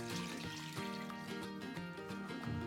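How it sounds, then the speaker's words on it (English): Cold water poured into a pan of browned bones for stock, a steady close trickle and splash of liquid lasting a few seconds, fairly quiet. "once we've done that, we add some cold water to that"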